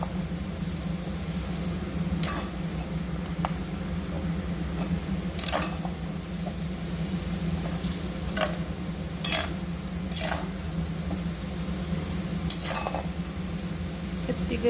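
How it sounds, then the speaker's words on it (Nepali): Chopped garlic frying in a pan for homemade Nepali chicken achar, a low steady sizzle under occasional clinks and scrapes of a utensil against the pan, fairly quiet and continuous. "अघि काटेर राखेको लसुनलाई फुराउँदैछु।"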